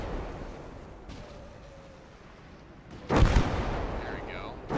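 Rocket artillery barrage in Gates of Hell: Ostfront, heard as a quiet battlefield bed broken by a sudden loud blast of launching rockets around the three-second mark, then a sustained roaring rumble with whistling streaks.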